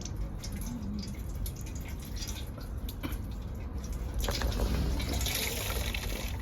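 Water squeezed out of grated radish through a thin cloth, dripping and trickling steadily into a container, close and fairly quiet, with no talking.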